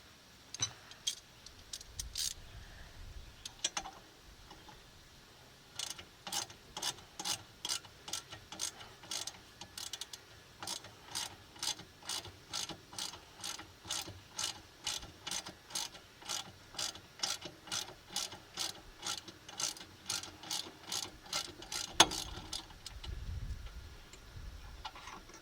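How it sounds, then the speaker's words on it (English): A ratchet loosening a front brake bolt on a 1996–2000 Honda Civic, a long run of rapid rhythmic clicking in steady bursts, close and crisp, with a few clanks of the tool at the start and end. "Once I got it moving, I can switch over to the ratchet."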